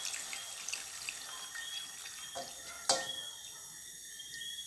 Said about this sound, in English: All we need now is we're gonna add some water to this.